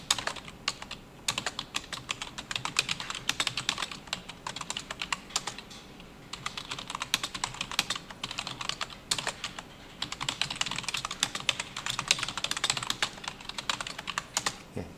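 Rapid, uneven typing on a computer keyboard during an Ubuntu server setup: dense clusters of close, crisp keystrokes with brief pauses throughout, and no voices.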